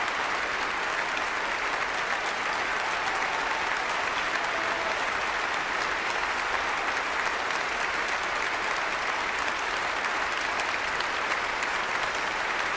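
Thunderous applause from a concert audience in Vienna for a pianist, a dense, steady roar of clapping that holds at full strength throughout without a break.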